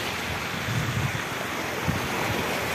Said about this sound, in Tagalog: Ito tayo sa malakas na alon